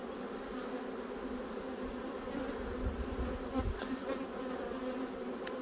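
A steady drone of honeybees buzzing around an open hive during a late-August inspection, with a dense continuous hum and individual bees passing close to the microphone, no talking.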